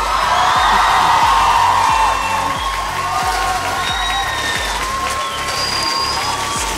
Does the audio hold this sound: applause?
yes